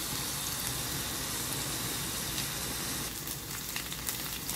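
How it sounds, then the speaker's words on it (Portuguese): Garlic and onion fry in rendered bacon fat, a steady, dense sizzle and crackle that holds loud and unbroken throughout, with faint stirring clicks toward the end. "Vou colocar agora o alho e a cebola. Vou deixar dar uma fritadinha também para terminar essa parte."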